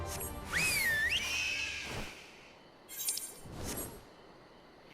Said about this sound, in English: I love that whistle sound effect because it's the whistle that Shadow does in Final Fantasy VI.